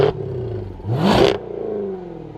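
Close, loud blip of a 2020 Jaguar F-Type R engine with the exhaust button on: a sharp single rev that rises and falls within about a second, followed by a settling idle, no voices.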